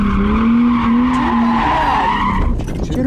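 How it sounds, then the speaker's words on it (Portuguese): Car doing donuts with tires skidding: a loud, continuous rubber squeal wavers in pitch while the engine revs underneath, then breaks off into rougher tire and engine noise near the end. "Toda vez que eu acelerar no fundo e girar, ele vai fazer o zerinho."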